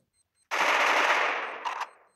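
Rapid automatic gunfire from a gun in the Free Fire video game, one continuous burst of about a second and a half with a brief stutter near the end, loud and close with no talk over it.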